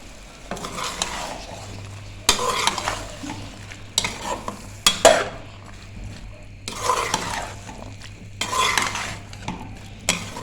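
A spoon stirring and scraping mixed vegetable handi in a pot comes in several distinct bursts separated by quieter pauses, close and clear, with a faint sizzle underneath.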